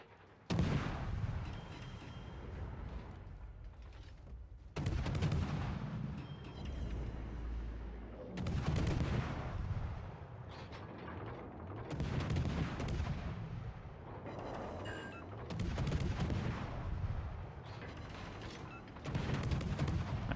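Naval armor-piercing shell salvos from warships in World of Warships: Legends, with heavy booming gunfire repeating roughly every few seconds, loud and close, each blast followed by rumbling decay under continuous battle noise.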